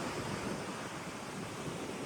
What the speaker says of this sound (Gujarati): મોજા બહુ મોટા નથી.